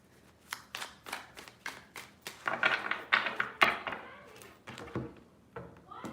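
A tarot deck is shuffled by hand in a quiet room, a series of crisp riffling bursts and soft taps coming in quick succession, close and fairly faint.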